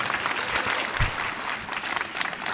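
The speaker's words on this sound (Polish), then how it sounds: "Brawa dla pani Katarzyny Wojtkowiak." An audience at a book launch applauds a pianist with steady, dense clapping that fills the hall without pause.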